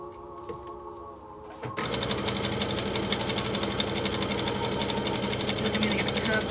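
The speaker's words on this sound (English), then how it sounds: "Sorry if the sewing machine sound is really annoying." A sewing machine stitches fabric for a Christmas craft project with a rapid, steady mechanical chatter. It starts abruptly after a quieter stretch and then continues loudly to the end.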